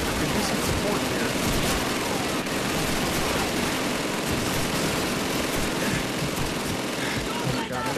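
Heavy gunfire in the World War II shooter Call of Duty 2, with continuous overlapping rifle and machine-gun bursts and explosions filling the scene against a battle of German troops, loud and unbroken throughout.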